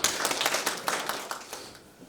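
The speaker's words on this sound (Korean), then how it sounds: "박수로서 환영해 주시기 바랍니다" Audience at a church building seminar claps in welcome for an introduced speaker, a dense burst of many hands that is steady at first, then thins and fades toward the end, with no talking.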